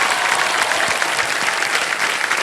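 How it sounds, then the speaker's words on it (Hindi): Studio audience at the KBC quiz show applauding for a contestant and her parents, steady dense clapping throughout at a loud, even level. "एक बार तालियां बज जाए उनके लिए"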